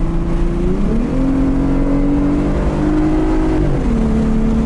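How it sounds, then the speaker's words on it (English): Jeep Gladiator engine revving and accelerating, a loud steady drone that steps up in pitch with each gear change, heard close with wind noise. "Ooh, we got little burpees when it accelerates."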